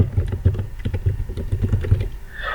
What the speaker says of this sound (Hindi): यहाँ पे हम चंद फिगर टाइप कर लेते हैं